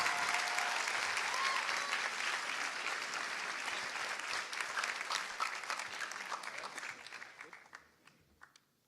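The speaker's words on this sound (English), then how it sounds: "Can you please give me a round of applause for Jude Momani, our class historian of 2024." A large audience at a 2024 high school graduation ceremony in Qatar applauds the class historian, a dense, sustained roar of clapping that fills the hall and then gradually tapers into scattered claps and quiet.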